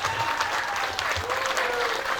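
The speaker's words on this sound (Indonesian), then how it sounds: "Tepuk tangan untuk seluruh santri yang ada di Indonesia." Applause for santri students from an audience at an Islamic boarding school sermon, a steady wash of clapping filling the whole stretch at even loudness.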